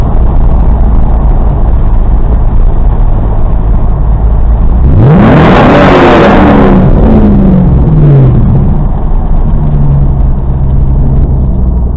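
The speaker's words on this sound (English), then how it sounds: "I'll rev it up under the bridge." A car engine revs up loudly beneath a bridge, the pitch climbing then falling away, heard from inside the cabin over a constant heavy road rumble, with no talking.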